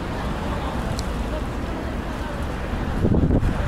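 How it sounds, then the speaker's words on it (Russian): Fresh wind on a seaside promenade in Bari, Italy, roars as a constant broadband rush into the microphone, with low buffeting gusts swelling toward the end. "вот тут сейчас свеженький ветер"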